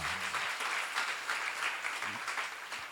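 A church seminar audience applauds steadily throughout, a dense wash of clapping hands with no pauses.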